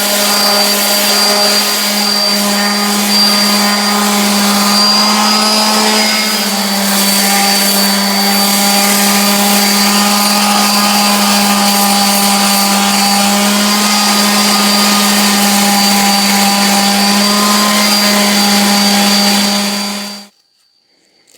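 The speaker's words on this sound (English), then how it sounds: "got my random orbital and just going to sand, clean it up a little bit" Random orbital sander with 100-grit paper working a wooden axe handle, a loud steady motor whine with a strong hum, running continuously close to the mic for about twenty seconds before cutting off abruptly.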